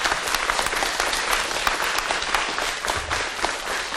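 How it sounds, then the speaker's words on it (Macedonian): A school audience in North Macedonia claps at a commemorative programme honouring Goce Delchev, producing dense, sustained applause from many hands that stays loud and even throughout. "Аплауз."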